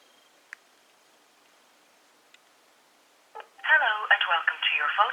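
A Samsung Xcover 3 phone dials voicemail: two faint isolated key beeps, then a rapid run of tones followed by a recorded voice answering.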